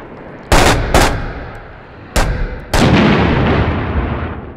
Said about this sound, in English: Somebody has to go ahead and toss a frag up there.